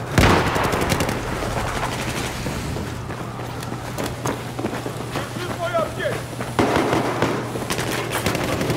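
Gunfire crackles in Battlefield 4, with bursts of rapid shots and scattered single cracks over a constant low engine drone. A few brief noises rise among the shots, and nobody speaks.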